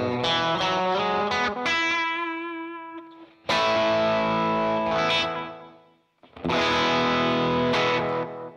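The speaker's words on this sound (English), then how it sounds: "I really like delay pedals to kind of just live in your chain, and you don't really notice them until you give it space" An electric guitar runs through a Mythos Oracle analog echo delay pedal and plays distorted chords in three loud bursts. Each burst fades into repeating echoes between phrases.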